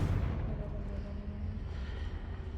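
A Confringo fire spell blast in the Hogwarts Legacy video game, a loud, dense, rumbling explosion that roars steadily throughout and fades only slightly toward the end.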